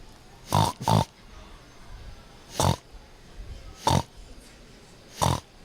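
A person imitates a pig with five short snorting oinks, the first two in quick succession, then spaced single grunts, close and fairly loud.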